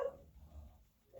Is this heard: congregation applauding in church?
no